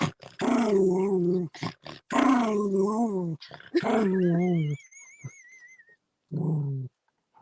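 A person imitates a growling dog with long throaty rumbling snarls in several bursts, loud and close, ending in shorter growls with a faint whistling tone in the background.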